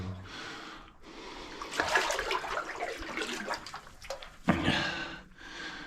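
Water splashing and sloshing as someone wades through a flooded goldmine tunnel among muddy boulders, irregular bursts of splashes echoing close by, with quieter gaps between steps.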